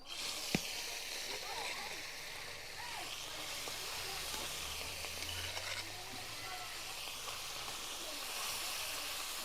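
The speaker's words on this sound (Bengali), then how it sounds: "মাছগুলোও বেশ ভাজা হচ্ছে" Small river fish fry in hot oil in a kadai with a soft, continuous crackling sizzle, faint and steady, with a low hum partway through.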